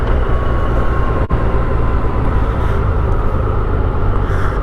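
A Kawasaki adventure motorcycle passes on a wooded scenic byway, a loud, close rushing roar heard over steady road and wind rumble, with no one speaking.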